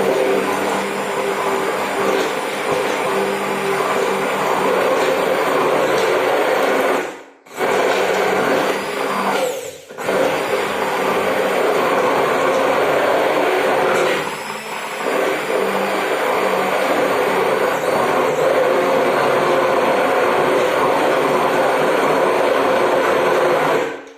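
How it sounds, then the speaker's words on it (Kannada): A blender churns a thick mango ice cream mix of Herbalife shake and fresh cream, a loud continuous motor whir that cuts out briefly twice and strains as the mix thickens. "ಬ್ಲೆಂಡ್ ಮಾಡೋಣ."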